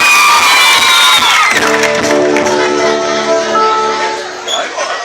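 A crowd cheers, whoops and shouts for the singer at the 2013 Caça Talentos talent show in Godofredo Viana, loud and close. Children's shouts rise above it before a sustained musical tone sets in underneath.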